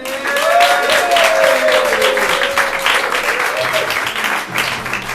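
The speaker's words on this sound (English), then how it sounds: "Big round of applause." Applause from an audience at a live show fills the clip, steady and dense, with cheering voices and whistles riding over the clapping.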